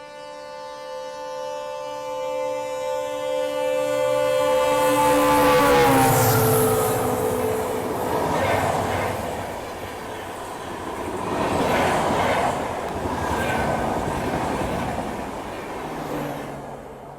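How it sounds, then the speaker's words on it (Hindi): The Avadh Assam Express sounds a long, sustained horn blast while approaching, then thunders past a train halted on a loop line, its rolling wheel noise and clatter swelling and fading in loud waves. "हमारी ट्रेन जो है वो लूप लाइन पे खड़ी हो चुकी है क्योंकि अवध असम जो है बस आने ही वाली है"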